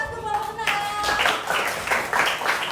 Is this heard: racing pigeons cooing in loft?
no